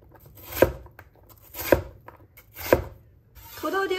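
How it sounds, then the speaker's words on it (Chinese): A knife dices potato into small cubes on a cutting board: three separate, evenly spaced chops stand out clearly, each a sharp thud, and then a quieter rustle follows near the end. "最后我们给它切成小丁"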